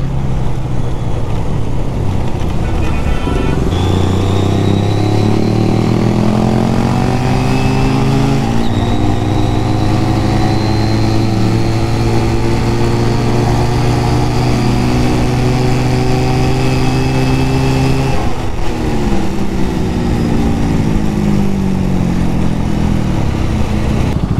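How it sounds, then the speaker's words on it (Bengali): A Honda CD 200 Roadmaster classic motorcycle engine runs loud and close, holding a steady drone with rising and falling revs and shifting tones across the whole stretch. "2500 সিসির একটা বাইক, অনেক আগের বাইক, এখনও যে এত সুন্দর সাউন্ড এবং এত সুন্দরভাবে চলতেছে"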